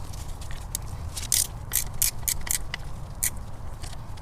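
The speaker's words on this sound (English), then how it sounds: "So I'm going to use a box end ratcheting wrench on this one." A box-end ratcheting wrench working on 10mm bolts of a Toyota 22RE engine, a string of quick metallic ratchet clicks in irregular bursts over a steady low background rumble.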